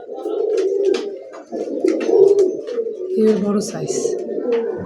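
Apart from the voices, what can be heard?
grizzle racer pigeons cooing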